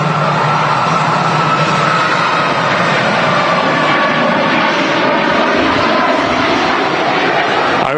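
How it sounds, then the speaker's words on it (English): A Ryanair Boeing 737 MAX rolls for takeoff at Manchester Airport, its jet engines building a loud, sustained roar that holds steady throughout, heard from a distance with no voices. "Ryanair Max now rolling."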